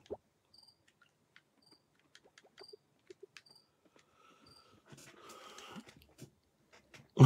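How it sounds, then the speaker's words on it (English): A cricket chirps indoors inside a house, faint and in short repeated bursts with gaps between them, alongside scattered soft rustles and one louder noise at the very end. "I don't know if you can hear that cricket in the background"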